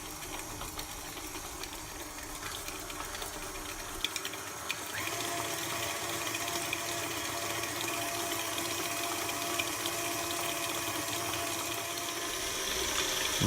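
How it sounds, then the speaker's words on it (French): A stand mixer beats apple cake batter with a steady whirring motor drone, jumping to a louder, busier hum partway through as the speed is raised, with no talking. "battre le tout, dans un premier temps à vitesse lente, puis augmenter progressivement la vitesse, jusqu'à ce que le mélange devienne mousseux"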